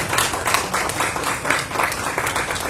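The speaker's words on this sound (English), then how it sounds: "A round of applause for Ms. O'Brien and her team." Steady crowd applause at a public school board meeting, dense overlapping claps, moderately loud and continuous throughout, no voices standing out.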